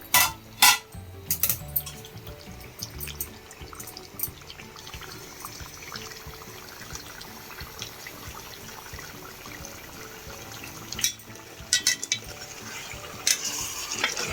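Water going into a pan of cooking chicken curry, with clattering pots and utensils, a few sharp knocks at the start and near the end, and soft liquid pouring and stirring between, close by.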